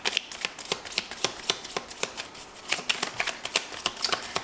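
Spark of Love oracle cards being shuffled by hand, a rapid, close run of crisp papery riffles and slaps repeating steadily throughout.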